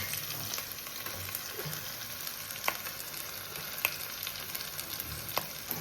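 Ground spice mix of fried shallots, chilli powder and coriander powder frying in a pan, a soft steady sizzle with a few sharp clinks of a utensil scattered through, no voices.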